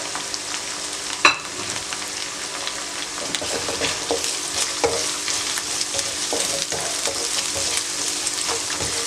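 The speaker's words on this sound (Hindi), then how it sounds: "चंद सेकंड के लिए दोबारा फ्राई किया।" Garlic fried with salt, chili and masala spices in a pan gives a busy, continuous sizzle, with a sharp clatter near the start and light stirring scrapes throughout.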